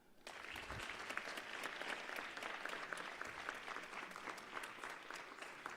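A crowd of delegates at a learner leadership summit applauds, producing a sustained, even wash of clapping from many people that starts quickly and stays level throughout.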